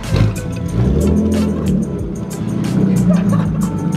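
Abandoned BMW E36 328i convertible engine running just after a bump start, a close, loud idle and rev with uneven rumble throughout, no speech.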